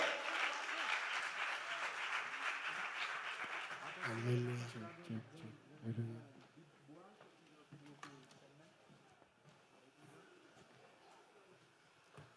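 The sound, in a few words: audience applauding Samantha Doizin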